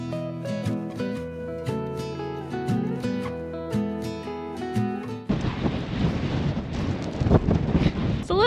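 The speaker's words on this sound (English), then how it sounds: "It's a little bit windy." Strong wind buffeting the microphone on a sandy Lake Powell beach, a loud rumbling roar that follows several seconds of music.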